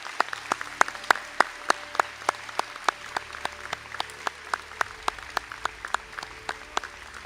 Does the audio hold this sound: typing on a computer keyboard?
no